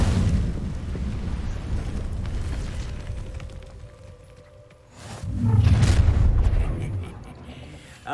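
Incendio fire spell cast in Hogwarts Legacy bursts out as a loud roaring whoosh of flame, swelling midway after a rumbling stretch of game noise, heard alone without talk.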